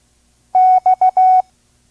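Morse code letter X keyed as a clean single tone, long-short-short-long: four crisp beeps in quick succession, close and loud over silence.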